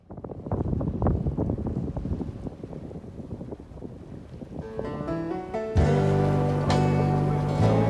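Wind roars across the microphone aboard a sailboat beating upwind on the Baltic Sea, a loud gusty rush that gives way to a steadier, brighter tone near the end.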